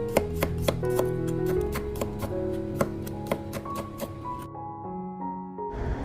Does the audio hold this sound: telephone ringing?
no